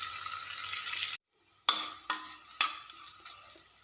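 Sliced bitter gourd and curry leaves fry in a pan: a bright, steady sizzle cuts out briefly, then returns with three scraping stirs of a spatula against the pan, each followed by renewed crackling.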